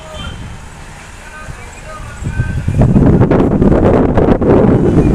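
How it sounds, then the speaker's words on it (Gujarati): Strong cyclone wind buffets the microphone, building from a steady rush into strong, roaring gusts over the second half. "અત્યારે ફૂલ પવનનો વેગ વધતો જાય છે"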